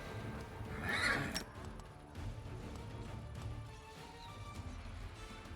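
Horses neighing with hoof sounds among plagued wolves and smilodons in a fantasy role-playing video game: a loud whinny rises early, then mixed game creature noise and rumble continue at steady level.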